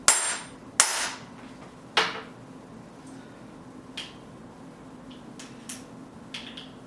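Hammer whacks on a steel ball set in an oversized small bore, driven to displace metal and size the hole: three loud sharp metallic strikes in the first two seconds, then several fainter taps spaced apart.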